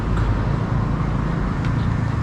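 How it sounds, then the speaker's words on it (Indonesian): A truck passes on a busy Kuala Lumpur street near KLCC, a steady, heavy low rumble of engine and road noise that fills the scene without any talk. "Truk."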